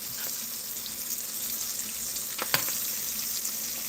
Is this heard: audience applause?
no